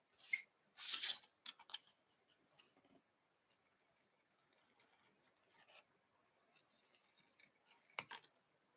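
Scissors snip stamped paper daisy leaves by hand, fussy cutting around the shapes: a couple of firm close snips at the start, then scattered faint cuts and paper rustles, with another cluster of snips near the end.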